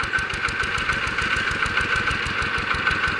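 A multi-purpose racing water pump engine running steadily, a loud close mechanical drone with fast regular firing pulses and no talk.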